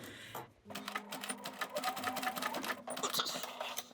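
A sewing machine stitches an invisible zipper into Style Falcon Diamond Hem trousers, giving a steady, rapid mechanical whir of stitching close by, broken by a brief pause near the start.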